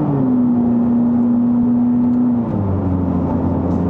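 A Mitsubishi Lancer 2.0 GT with a CVT gearbox holds a steady engine drone at about 3500 rpm, then the pitch drops as the revs fall, heard loud from inside the cabin.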